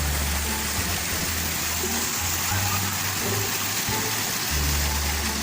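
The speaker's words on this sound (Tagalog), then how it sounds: "Lakas ng alon." Strong waves of floodwater churn on a rural farm, a loud, steady broadband rush of water with low rumbling undertones filling the whole stretch without pause.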